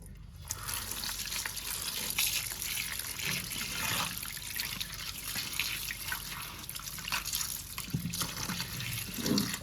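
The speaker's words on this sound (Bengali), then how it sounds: "আমগুলোকে চলো ভালো করে ধুয়ে নিই" Mangoes being washed under a running tap: a steady, close rush of water splashing and trickling for the whole stretch, with small splashy changes as the fruit is handled and no voices.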